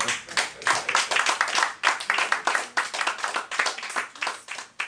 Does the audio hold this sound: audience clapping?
yes